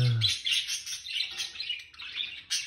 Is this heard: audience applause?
no